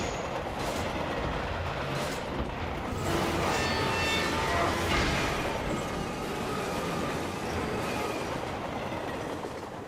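Train in an animated series, with a continuous rolling rumble and rattle of wagons, wheel squeal and clatter rising and falling, close and loud, with no voices.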